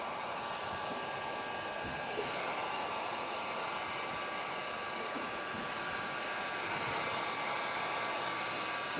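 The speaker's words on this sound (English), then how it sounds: "I'm going to get my heat gun." A heat gun blows hot air onto vinyl wrap, a steady, faint whooshing hiss that runs unbroken throughout with no voices.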